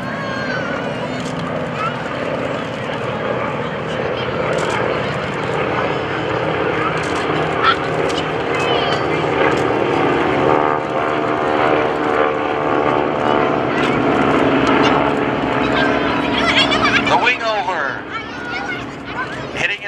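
A propeller airplane drones steadily overhead at an airshow in Manassas, its engine noise loud and continuous, rising slightly before fading near the end; a voice speaks faintly underneath.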